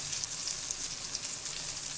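Coated eggplant slices, dusted in rice flour, fry in a pan over medium-low heat, giving a steady, close, even sizzle and crackle throughout with no talking.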